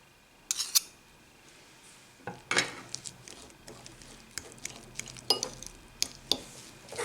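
A spoon clinks and scrapes against a bowl while an egg mixture is stirred, giving quiet irregular taps and short scraping strokes with pauses in between.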